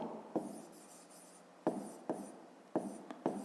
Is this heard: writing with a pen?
yes